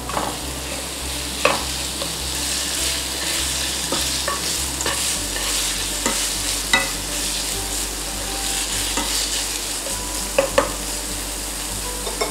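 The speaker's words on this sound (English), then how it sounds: "Stir fry for a few seconds and add in the pork." Scallions, garlic and pork stir-fried in hot oil for Korean black bean noodles: a steady loud sizzle runs throughout, broken by sharp scraping clinks of a spatula against the pan, with no talking.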